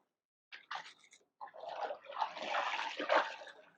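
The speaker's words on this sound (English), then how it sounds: "Rinse my mop out again." A mop sloshed and rinsed in a bucket of water during floor cleaning, starting with a few short splashes, then a longer continuous swishing and dripping, fairly quiet and close, with no talking.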